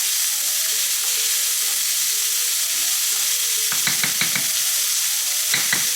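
Onions fry in a pan for lasagna, a steady loud sizzle filling the space, broken by a cluster of scraping stirs partway through and one more toward the end.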